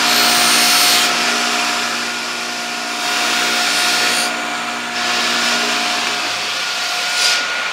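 A knife is pressed against a soft cotton wheel on a high-speed buffer, giving a continuous loud whirring rush with a steady motor hum that dips and swells as the blade makes light passes.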